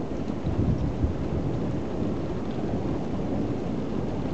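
A continuous low rumble of thunder blends with steady rainfall, sustained and fairly loud throughout with a slight swell near the start.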